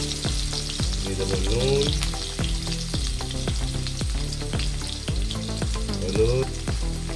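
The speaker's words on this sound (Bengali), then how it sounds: "তেল গরম হয়ে গিয়েছে, এর মধ্যে দিয়ে দেবো কেটে রাখা আলু" Cut potatoes fry in hot oil for a fish curry, a steady close sizzle beneath a voice talking throughout, with occasional clinks and stirring sounds.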